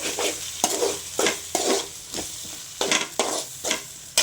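A spoon stirs vegetable kurma into a masala in a pan, making about eight rhythmic scraping, sizzling strokes, close and fairly quiet.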